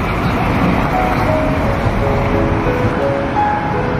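Heavy traffic rushes through an underpass near Harbin railway station, a dense continuous roar of passing vehicles with a broad whooshing wash and faint engine tones, loud and unbroken.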